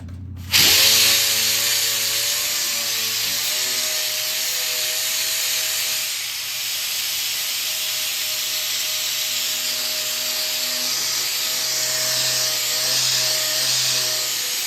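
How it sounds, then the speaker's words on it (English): A power sander runs continuously on a wooden pinball head patched with Bondo, starting abruptly and holding a loud, steady motor whine with hiss throughout, close up and without speech. "Let me grab my sander."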